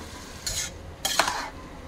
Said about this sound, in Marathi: आता यात हे भिजवलेले जे तांदूळ होते हे टाकून घ्यायचे।